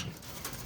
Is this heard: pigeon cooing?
yes